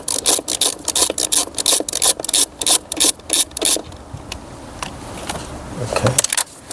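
A nut being undone on the manifold of a Mercedes CL 600 V12 with a misfire fault, heard as a rapid run of rhythmic rasping ratchet strokes up close, then scattered scrapes and clinks of metal.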